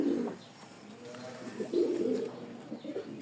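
An Indian Lal Dom pigeon coos in low, throaty bursts, several repeated calls close by, with a brief pause between phrases.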